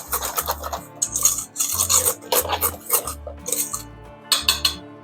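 Whisk scraping through dry ingredients of flour, white sugar and baking soda in a bowl for lemon meringue cupcakes, close rhythmic raspy strokes with metallic clinks, about a dozen quick bursts.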